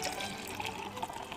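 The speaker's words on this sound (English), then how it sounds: "Get a little bit of a hard pour on there." Hard Mountain Dew Watermelon is poured hard into stemware, making a brief, faint splashing gush.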